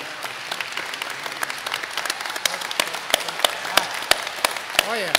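Commencement audience applause at a university graduation ceremony, a steady, dense wash of many hands clapping with sharper individual claps popping through, moderately loud and sustained, with faint voices mixed in.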